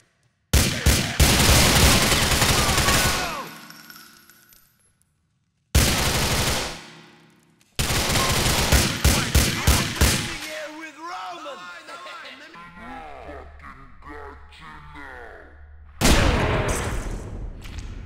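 Bursts of gunfire in a tense standoff, loud repeated cracking volleys in several separate stretches broken by silences, with shouting voices between the bursts.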